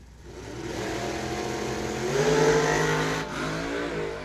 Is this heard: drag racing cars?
yes